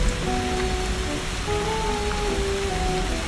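Heavy rain pours steadily during a typhoon, a dense, even hiss that holds for the whole stretch, with faint sustained tones in the background and no voices.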